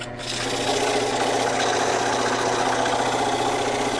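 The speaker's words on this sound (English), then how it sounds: "Now I'm going to use a sanding block to make sure that my taper is straight and true." Steady, continuous rubbing of a sanding block along a wooden tool handle's tapered section, likely on a lathe, with a constant mechanical hum beneath, loud and close with no talk.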